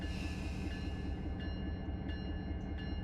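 A BNSF freight train locomotive in the Run 8 train simulator begins to roll out of the yard, giving a continuous low engine rumble with faint clicks and squeaks riding on top, steady and fairly loud.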